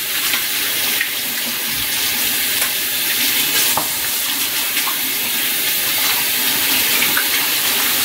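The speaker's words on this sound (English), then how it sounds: "Let me wash my hands really quick." Hands being washed under a running kitchen tap, a steady hiss of flowing water with faint splashing and small clinks, heard alone and close throughout.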